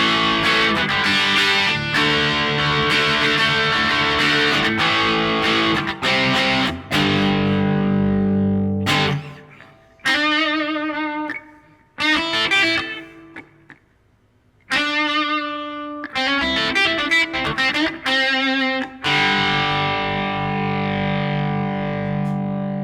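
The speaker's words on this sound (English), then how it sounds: "It's a pretty unique sounding distortion." Electric guitar played through a Maxon SD-9 Sonic Distortion pedal, with loud, sustained distorted chords and notes broken by short pauses and choppy stabs, close and alone with no talking.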